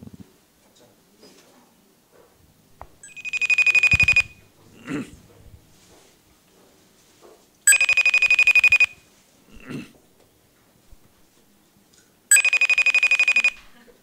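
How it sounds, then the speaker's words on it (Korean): An outgoing telephone call's ringback tone sounds three times as bright, buzzing bursts of one to two seconds each, separated by longer quiet gaps with faint murmuring in between. "전화를 안 받을 줄 알면서 제가 한번 해보도록 하겠습니다"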